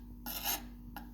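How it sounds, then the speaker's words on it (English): Filler spread with a spatula on an old secretary hutch makes a short raspy scraping stroke, then a second brief scrape, close and quiet with no talking. "I'm going to just start filling it in like that"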